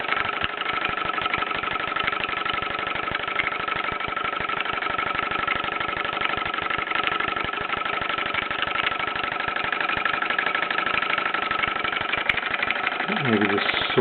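A 1930s Bowman M167 toy steam engine runs in a small workshop setting, giving a steady rapid chuffing rhythm throughout, close and moderately loud, with a brief higher sweep near the end.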